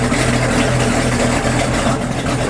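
A Rinker boat's engine runs steadily with its propellers turning, giving a loud, continuous low hum with harmonic drone and no pauses.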